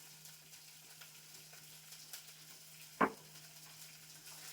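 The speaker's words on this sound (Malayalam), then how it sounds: "പിന്നെ ഇനി സവോള ഇഞ്ചി വെളുത്തുള്ളി ചതച്ച് വെച്ചതാണ് ഇടുന്നത്." Crushed onion, ginger and garlic fry in a pan with a low, steady sizzle, broken by one sharp clatter partway through.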